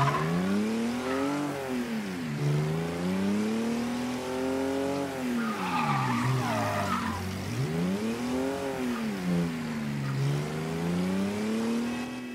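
A car in the video game Mafia 3 drives with its engine revving up and down in repeated swells while tires squeal and skid, loud and continuous throughout.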